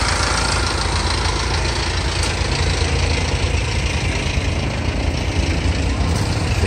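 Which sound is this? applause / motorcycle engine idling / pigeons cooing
motorcycle engine idling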